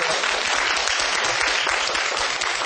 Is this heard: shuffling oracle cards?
no